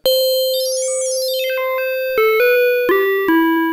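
A DIY Arduino wavetable/FM synth plays a bright FM tone whose metallic overtones sweep and cross. It then steps through several sustained notes, each switching sharply to a new pitch.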